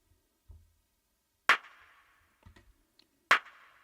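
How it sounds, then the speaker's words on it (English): A snare drum from a produced music track, heard alone: two sharp, crisp hits with short, bright tails, spaced a couple of seconds apart, with faint low kick thumps between them. "So the regular snare on the track is really sounds like this"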